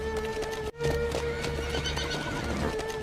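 A horse whinnies loudly close by, a shrill neigh after a brief break, with hoof clip-clops and outdoor noise around it.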